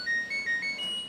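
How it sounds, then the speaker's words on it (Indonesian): A faint, thin electronic buzzer from the control module of an LG Smart Inverter washing machine that shows no display, chirping a short run of about five quick beeps at stepped pitches, heard alone. "barusan terdengar suara buzzer tapi sangat kecil"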